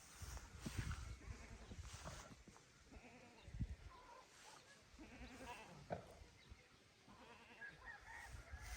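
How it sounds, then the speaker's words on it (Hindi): A goat bleats several times outdoors in a village in Kotli, Kashmir, with steady background noise and no talking. "नाज़रीन ये जो बकरी है ना ये आवाज़ें दे रही है।"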